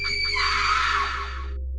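A terrifying horror-style scream rings out loud and sustained for over a second, high and piercing with a shrill edge, over a low steady background rumble.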